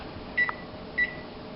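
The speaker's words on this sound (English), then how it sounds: "I'm going to set my timer for 20 minutes." A kitchen timer being set while baking cornbread, two short electronic beeps about half a second apart, faint and close over quiet room noise.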